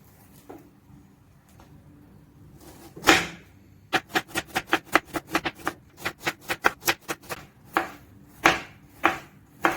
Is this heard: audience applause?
no